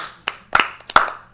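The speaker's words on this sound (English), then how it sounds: "You're going to get a clap for that" Several sharp hand claps ring out one after another at an uneven pace, crisp and close, with short quiet gaps between them.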